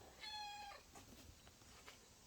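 A cat gives one clear, fairly close meow, followed by faint clicks and handling noises in a quiet garage during Bronco repair work.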